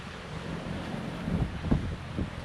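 Wind and ocean waves surge around a sailboat being hand-steered into a cut, with 6 to 8 foot following seas pushing from behind; a steady rushing roar with heavier low swells rolling through.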